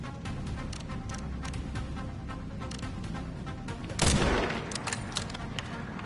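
Gunshots in Resident Evil Requiem on Insanity difficulty rattle through the game's steady background noise, with one loud, sharp blast standing out near the end.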